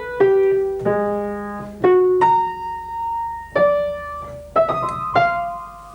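Solo piano plays a waltz tune by Schoenberg built from all twelve notes without repetition, with broken harmonic fragments underneath. The melody moves in distinct sustained notes and chords, close and clear, with no voices.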